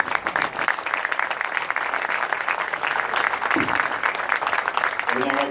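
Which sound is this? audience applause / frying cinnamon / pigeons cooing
audience applause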